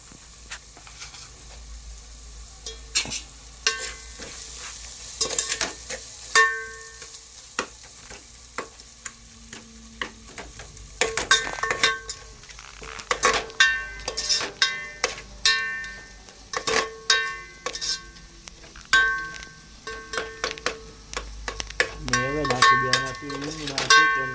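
Brinjal frying with chili powder and salt for a Kathiyawadi garlic olo in a village kitchen, with soft sizzling under repeated sharp clinks and scrapes of stirring that grow busier toward the end.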